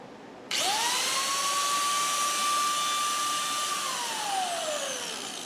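A loud Jet woodturning lathe spins up to a steady, high, grinder-like whine and holds it for several seconds, then the pitch winds down at the end. No one speaks.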